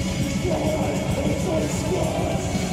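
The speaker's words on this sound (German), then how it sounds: "jetzt wird Blastbeat geil" Black metal from Cyprus pounds with fast blast beat drumming, a dense, loud, unrelenting wall of rapid hits under distorted sound.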